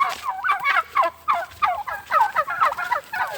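Turkeys on a farm gobble loudly and close by in rapid, overlapping bursts that continue throughout.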